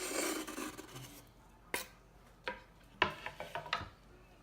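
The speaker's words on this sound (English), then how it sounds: "I like to mix this all up before adding the milk and the eggs" Meatball ingredients including parmesan, onion and garlic are mixed in a bowl, producing soft rubbing and squishing followed by several sharp scrapes and clicks of a utensil against the bowl, close and intermittent.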